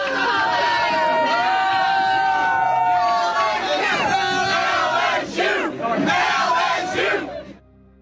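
A wedding crowd roars a loud, rhythmic chant of LSU at close range, voices merging into a sustained collective shout that dips briefly near the end before tailing off.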